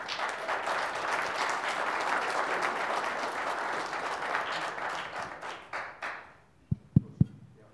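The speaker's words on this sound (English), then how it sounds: "So that applause that you just gave them" An audience claps steadily for several seconds, a dense wash of applause that fades out, ending with a few last isolated claps.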